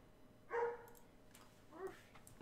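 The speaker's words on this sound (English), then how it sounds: "That fucking dog, I swear." A dog barks twice, a short close bark followed about a second later by a softer one, faint behind a quiet room with no talking.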